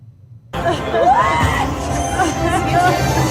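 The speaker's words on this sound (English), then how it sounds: "we just hear screams, Perla. Screams of joy." A crowd in Las Vegas during Super Bowl week breaks into loud, sustained screams and cheers of joy, with overlapping shouting voices that rise suddenly and stay intense throughout.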